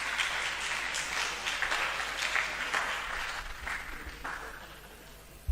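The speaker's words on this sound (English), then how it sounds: "Let's give them more a round of applause." A live audience applauds steadily at a chemistry quiz, a sustained wash of clapping that fades slightly toward the end.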